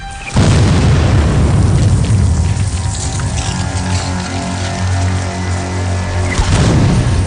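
A huge artillery shell from rifled ordnance bursts with a deep, roaring boom that rumbles and rolls on for several seconds, loud and close, in a Gettysburg battle scene.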